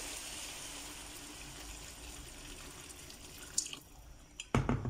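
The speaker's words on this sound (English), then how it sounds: "Goes in our cup of hot water." A cup of hot water poured into a cooking pan of chutney, a continuous running, splashing flow followed by a few louder splashes and clinks near the end.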